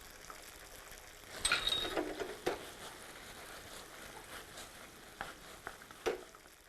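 Freshly double-fried fish dropped into sauce and stir-fried in a pan, with a sizzle and a few scrapes and clinks of utensils coming in bursts over a soft background hiss, with no talk.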